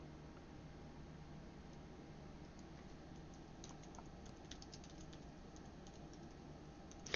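Steady keyboard typing on a computer, a quick continuous patter of keystrokes heard faintly throughout against a soft background hiss, with no voices.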